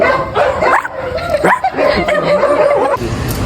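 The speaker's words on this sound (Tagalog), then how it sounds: "Pagtahol ng isa, tahol ng buong village." Several village dogs bark and yip in overlapping bursts, fairly close and loud, with people talking and chuckling over them.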